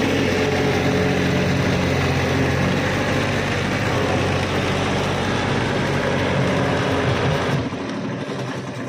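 A small three-cylinder tractor engine runs steadily nearby with a low, continuous mechanical drone, then drops slightly in level near the end.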